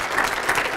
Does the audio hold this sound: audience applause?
yes